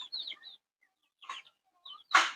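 A few short, scattered chicken clucks and chirps nearby, with quiet pauses between, ending in a louder squawk.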